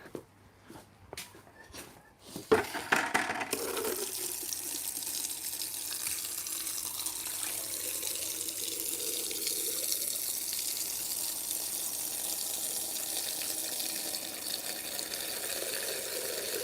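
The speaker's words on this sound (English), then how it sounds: "I'll get it filled with some water." Tap water pours into a filter in a fish room, a steady hiss and splash after a few scattered clunks and knocks at the start.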